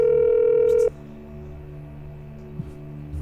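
A telephone handset gives a loud steady tone for under a second, then cuts off abruptly, leaving a low line hum with a faint click.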